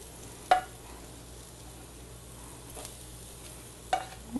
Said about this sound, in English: I've got some lovely spicy sausage right here. I've already cooked it, and I'm gonna put about a cup of sausage in this